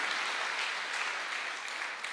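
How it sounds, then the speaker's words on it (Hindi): Audience applause for a charity that feeds 500 people daily, a steady wash of clapping from a crowd, moderately loud and continuous with no voices on top. "जोरदार तालियां होनी चाहिए इतनी शानदार संस्था के लिए।"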